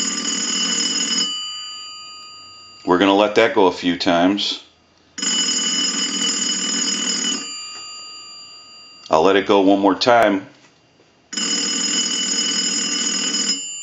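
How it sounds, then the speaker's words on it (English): A payphone bell, rung by a test analyzer, rings in three long, loud bursts, with someone talking in the gaps between rings. "We want to ring the unit. We had to install a bell. We'll go ahead and use the analyzer and ring the unit."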